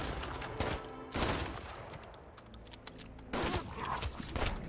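Ranged gunshots fired by squad members in the survival game Survive The Fall, with several loud broadband bursts at irregular intervals over quieter game ambience.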